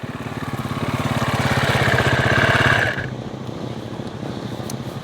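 A 2026 Triumph TF450C dirt bike engine runs steadily with a close, buzzing pulse, building in loudness before dropping back to a lower idle-like drone partway through.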